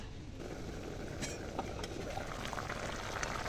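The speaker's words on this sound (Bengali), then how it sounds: "এই তো মাংসটা বলক চলে আসছে।" Layer chicken bhuna with whole chilies under a lid on a high flame, coming to a boil: a continuous soft bubbling and crackling hiss, close and steady, with no talk over it.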